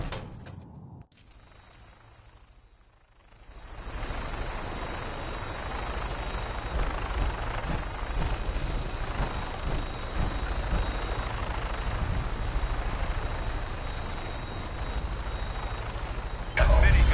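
Aircraft in flight in the video game Fallout 4, a steady, loud rotor-and-engine drone that rises after a short quieter lead-in and holds evenly to the end.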